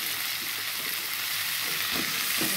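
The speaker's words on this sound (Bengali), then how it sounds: "সব দিয়ে একটু কষিয়ে নেওয়া হবে" Vegetables and fish sautéing in a pan for a Bengali vegetable fish curry, a steady close sizzle with a few stirring scrapes toward the end, no talking.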